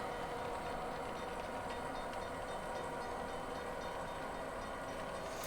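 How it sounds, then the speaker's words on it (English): A model train fitted with digital exhaust sound runs at a steady low speed on flat level track, giving an even, continuous rumbling chuff with rolling wheels, alone and without talk. "the train's moving at we're about speed step 7 or 8. And this is all flat level track. The wheels are rolling."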